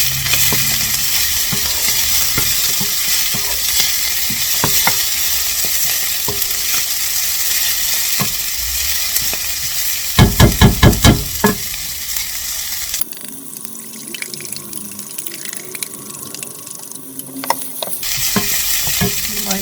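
Swiss chard and eggs scrambled in a frying pan: continuous close sizzling with repeated spatula scrapes and stirring taps, a burst of quick scraping midway, then quieter sizzle after the heat is lowered.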